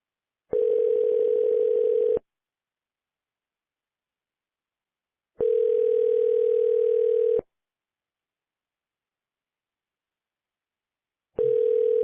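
Telephone tone heard while placing cold calls with an auto-dialer: three long, steady, pure beeps of about two seconds each, separated by long silences, clean and alone.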